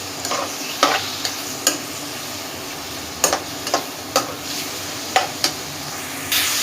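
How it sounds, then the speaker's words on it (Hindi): Chicken fries in lightly heated oil in a pan, a steady sizzle broken by several sharp clatters of a spoon stirring and scraping, close up with no voices. "ऑयल हल्का हल्का गर्म हो गया, अब हम इसमें अपना चिकन ऐड कर देंगे।"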